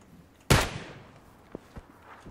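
A single loud, close gunshot crack in the PUBG Battlegrounds video game, followed by a couple of soft thuds like footsteps, with no talk.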